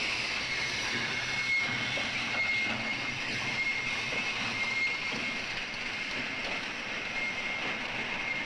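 An oil tanker freight train in the Daqing oil region rolls past in a steady, continuous rumble with hissing and faint wheel squeal, loud and unbroken, with no voices.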